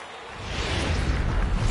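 Crowd cheering from the home crowd in a baseball video game on PS4, a broad steady roar of noise that swells slightly and holds, with no talk over it.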